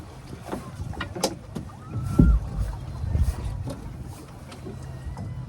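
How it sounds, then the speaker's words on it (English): Strong wind gusts buffet a small sailing dinghy out on the water, with a low rumbling roar, splashing and creaking that swell in the middle and then settle back to a steady blustery hiss; no one speaks. "So there's a lot of wind right now."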